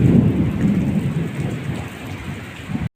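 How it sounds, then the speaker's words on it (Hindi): Steady rain pours down with a low, rolling rumble of thunder, then the sound cuts off abruptly. "आज बारिश हो रही है"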